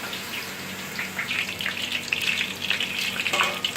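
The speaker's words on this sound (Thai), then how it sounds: "ห่อฟองเต้าหู้แล้วก็เอามาทอด" Tofu skin rolls frying in oil, giving a dense, steady bubbling sizzle with rising crackles, close and fairly loud throughout.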